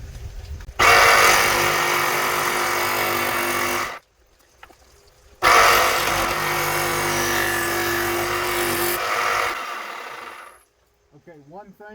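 A saw fitted with a Diablo carbide-tipped blade cuts G10 fiberglass sheet in two loud, sustained grinding bursts separated by a short pause, and a brief voice follows at the end.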